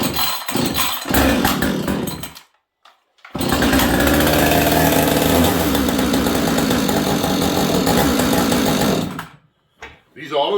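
Auto-tune Husqvarna 576 chainsaw pulled to life after a short gap, then held at a loud, steady high idle for several seconds before cutting off, with brief bursts of noise around it.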